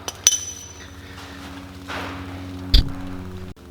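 Hammer blows on a Chevy C10 truck's front suspension part during an air bag install in a garage: two sharp metallic strikes, one early and one later, ringing briefly over a quiet background.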